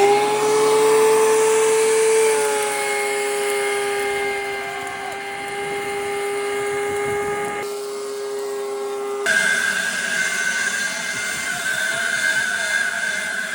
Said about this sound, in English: let me show you guys why we decided to hook up the shop vac to our new planer.